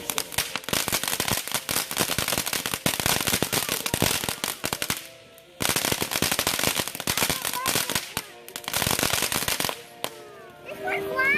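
Fireworks going off nearby, dense rapid crackling bursts like a string of firecrackers, loud and sustained with two brief pauses, and voices talking in the background.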